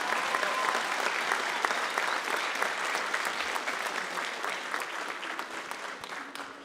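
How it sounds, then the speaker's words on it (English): Sustained applause from a school choir concert audience fills the whole stretch, a steady dense clapping that fades slightly toward the end. "one more big round of applause"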